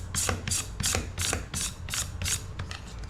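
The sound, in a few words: knife scraping spines off a cactus paddle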